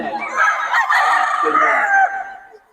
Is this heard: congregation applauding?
no